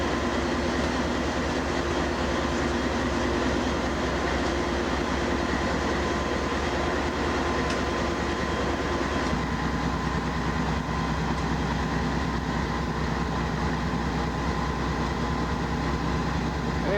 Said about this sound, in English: And there's the last car in our train.